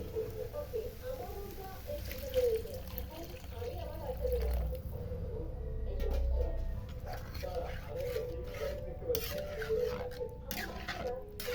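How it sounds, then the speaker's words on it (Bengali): Water poured into a pot of chana dal cooking on the stove, a soft splashing fill heard under steady close-up talking. "এখন দিয়ে দেবো পানি"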